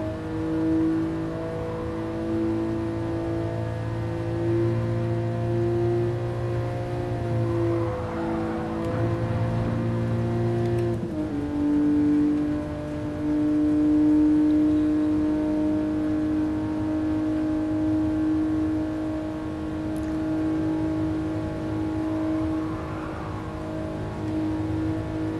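Engine of a 1967 Toyota 2000GT driven around a ring circuit in Gran Turismo Sport, a steady loud harmonic drone that shifts pitch with gear changes and revs, running alone throughout.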